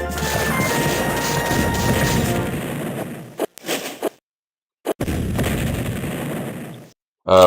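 Horse artillery cannon fire in the Civil War Generals 2 strategy game, a sustained rumbling barrage of booms and crashes, broken by brief gaps of silence before resuming, loud and close.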